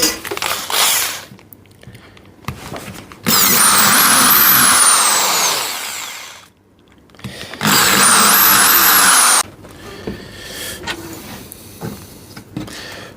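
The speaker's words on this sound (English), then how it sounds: "now we just drill them out" Power drill boring holes in wood for a French cleat tool wall, two loud sustained whining bursts rising in pitch, separated by pauses with quieter handling sounds.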